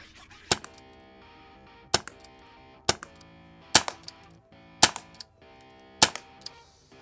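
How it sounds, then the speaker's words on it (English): An M9 Beretta-style airgun pistol firing six sharp, loud shots, spaced roughly one second apart, each followed by a faint mechanical click, close with no talking. "I'll shoot it single action by cocking the hammer back. And then double action, you just pull the trigger and it cocks itself."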